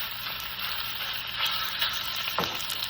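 Beef steak slices fry in a pan with a dense, close sizzle and crackle, punctuated by a few light scraping stir sounds.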